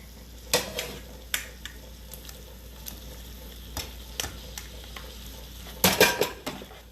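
Rigatoni pasta goes into a pan with sauce and is stirred, bringing a soft sizzle under scattered clinks and scrapes of a utensil against the pan, with a louder cluster of knocks near the end and no talking.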